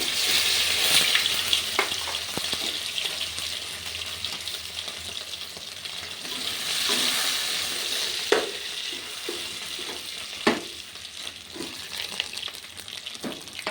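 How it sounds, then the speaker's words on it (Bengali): Potatoes fry and sizzle in a pan while being stirred, with a continuous hiss and occasional sharp scrapes and clicks from the stirring. "আলুগুলো দিয়ে দিন। আলুগুলো নাড়াচাড়া করে নিন।"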